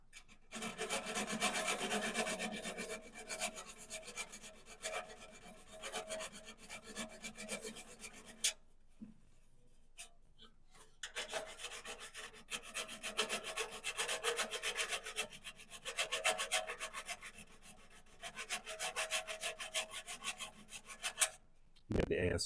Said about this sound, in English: Get the ASMR of the filing.